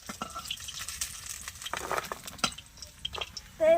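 Batter-coated kendri fry in hot oil with a crisp, continuous sizzle. Stirring clatter and scraping knocks break in, and a brief squeak sounds at the very end.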